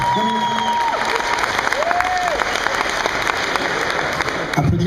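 At an outdoor music festival in France, a crowd claps in steady, dense applause. A few whistles or vocal whoops rise briefly above the clapping.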